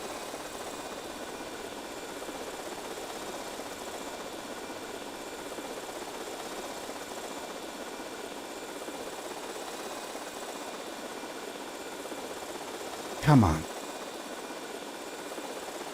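A steady video game helicopter engine drone runs throughout with a faint rotor hum, and a brief voice cuts in near the end.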